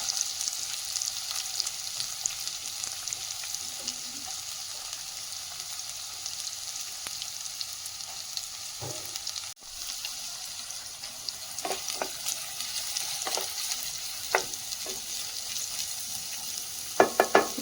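Finely chopped onions sizzle steadily in hot oil in a pan for a mushroom pepper fry, with a spoon scraping and stirring now and then, no voices.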